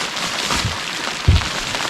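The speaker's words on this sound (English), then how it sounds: "The rain showed up." Rain falls at Lake Nacimiento, a dense, loud hiss of drops hitting a nearby surface throughout, with a brief heavier patter partway through and no voices.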